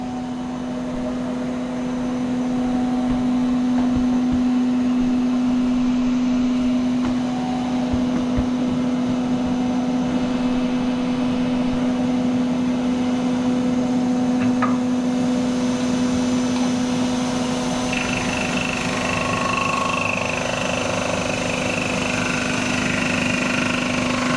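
A machine runs steadily while skimming the surface of a Porsche/Lancia Integrale cylinder head, with a continuous motor hum and whine throughout. A faint higher machining tone joins in toward the end.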